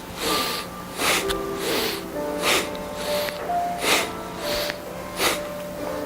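Slow, deep inhalations and exhalations through the nose during a Tai Chi breathing exercise, each breath a soft rushing hiss in a steady rhythm of about one per second, close to the microphone, with faint tones behind.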